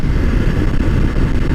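A Royal Enfield Himalayan 450 motorcycle on its first ride gives a steady, close engine drone with rushing wind noise that stays constant throughout. No one speaks.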